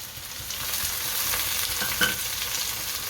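Tomatoes tossed into a hot pan for Punjabi poha, giving a steady, even sizzle with faint stirring throughout.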